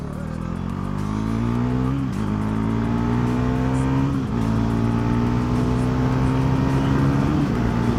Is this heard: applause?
no